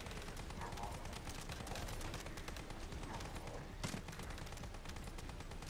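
Sustained rapid gunfire in The First Descendant, dense continuous shot bursts at moderate level with a sharper crack near the end, quiet in the mix.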